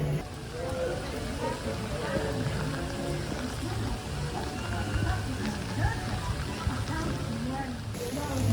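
Steady rain patters and hisses on surfaces at a theme park in Orlando, a constant wash of drops with muffled voices talking faintly in the background throughout.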